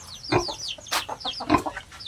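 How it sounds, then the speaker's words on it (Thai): Chickens on a Thai pig farm cluck in short, repeated bursts, with a few higher squawks mixed in, at moderate distance against a steady outdoor background. "ไก่"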